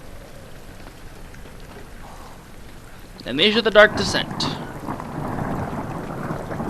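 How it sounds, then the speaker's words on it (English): Steady rain with a rumble of thunder in the horror video game Amnesia: The Dark Descent, building into a louder burst midway, with someone talking over the storm. "Nice thunderstorm."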